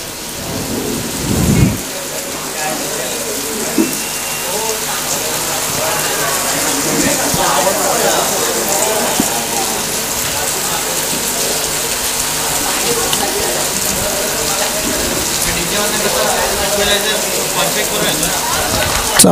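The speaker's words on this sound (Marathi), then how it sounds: "पाऊस तर पडतोच" Heavy, steady rain pours over a village cricket ground in Badlapur during a rural tournament match, with a sharp thunder crack near the start and a constant hiss beneath a cricket commentator's voice.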